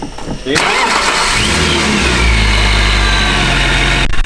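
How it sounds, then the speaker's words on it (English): A supercharged BMW engine cranks and catches, then settles into a loud, steady, rumbling idle with a high whine above it, close by. "I just want to put it around the parking lot and hear it spool up just a little bit."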